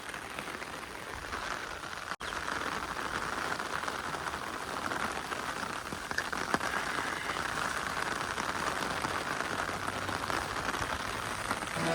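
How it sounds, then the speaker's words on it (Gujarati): Steady light rain hisses evenly for the whole stretch, a soft continuous patter with one brief click early on and no voices. "વરસાદ આવી ગયો છે"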